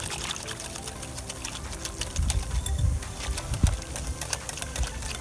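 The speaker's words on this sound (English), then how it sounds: "I'm going to whisk that up real good." A sauce of regular ketchup, sriracha and banana ketchup is whisked in a bowl, making a quick, continuous rhythmic clicking and sloshing at moderate volume, with a few louder dull knocks and no speech.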